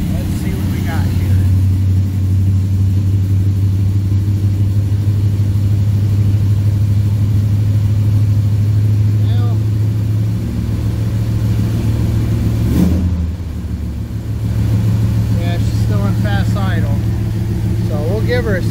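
A 1970 Plymouth Road Runner's V8 rumbles at a steady idle in neutral, loud and close, with a deep continuous throb and a brief blip of revving partway through.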